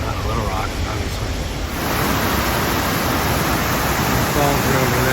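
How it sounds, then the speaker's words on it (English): Havasupai creek pouring down over a series of waterfalls, a steady, loud broadband rush of falling water that swells slightly after the first couple of seconds and holds constant throughout. "And then the creek comes down along here over these series of falls."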